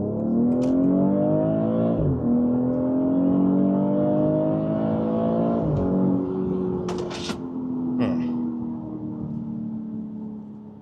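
Audi SQ5 SUV engine pulling hard at full throttle, rising revs through gear changes with a loud, steady drone up close and brief shift breaks, no talk over it.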